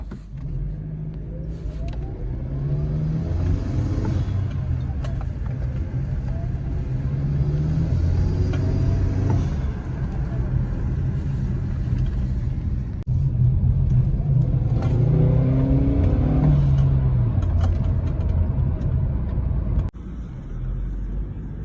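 An Acura RDX fitted with a K&N Typhoon intake accelerates hard, its engine revving up through rising sweeps with a shift, then climbing again, a loud steady rumble from inside the car with no talk.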